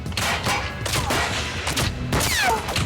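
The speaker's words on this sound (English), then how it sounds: "The RCMP assault the cabin, unleashing a wall of gunfire." Sharp bursts of gunfire crack out in rapid clusters, loud and close, with brief gaps between volleys and no voices.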